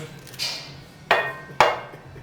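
A solid steel frying pan is struck twice in quick succession, each blow a sharp, loud metallic clang with a ringing tail, after a softer earlier thud.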